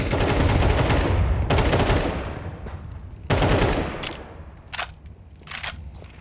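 Pistol gunfire during a professional Counter-Strike 2 match on the Anubis map, with rapid bursts of sharp shots, a long dense volley, then a pause and further clustered shots, loud and close throughout.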